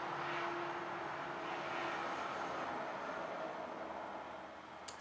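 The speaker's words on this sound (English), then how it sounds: "Semi-truck." Semi-truck passing outside a 20-year-old house, heard from indoors as a steady low rumble with a faint tonal whine, easing off toward the end, with no one speaking.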